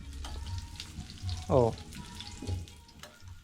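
Lumpia shanghai spring rolls frying in hot oil inside a home give a steady crackling sizzle, broken by a short voiced exclamation and a few faint kitchen clatters.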